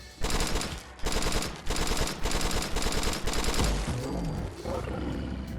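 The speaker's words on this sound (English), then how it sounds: "Let's see how we do with the burst rifle using 45 caliber." Repeated bursts of rapid gunfire from a burst rifle shooting .45 caliber rounds in Fallout 4, loud, close clusters of shots separated by short pauses, with echoing tails and a roaring creature sound late on.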